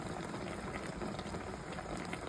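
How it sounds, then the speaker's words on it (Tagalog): A pot of paksiw fish stew made with bisugo (threadfin bream) bubbles at a steady rolling boil, a continuous close-up gurgle and hiss of simmering liquid with no voices. "Eto na po, kumukulo na."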